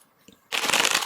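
A deck of cards is riffle-shuffled in one quick, close, crisp flutter of cards that fills the second half after a quiet start, with no talk over it.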